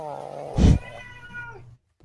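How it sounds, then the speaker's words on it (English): A house cat gives one loud, close meow lasting under a second, followed by quieter tonal sounds and then silence. "my cat is sitting here bitching at me about some shit"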